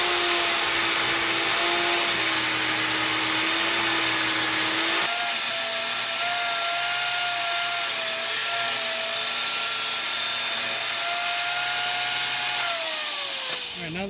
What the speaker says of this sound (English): then we're going to go over to the miter saw